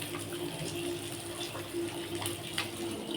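Water runs from a tap in a home kitchen into bottles being filled, a steady, moderately quiet gushing stream with faint clinks.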